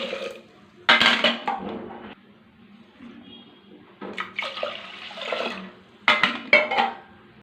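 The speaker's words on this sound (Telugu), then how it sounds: "నేను ఎక్కువగా నీళ్ళు పోసుకున్నాను" Water is poured into a cooking pot for sambar rice in three separate bursts of splashing and trickling, close and clear against a quiet background.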